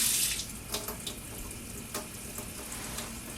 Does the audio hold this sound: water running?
yes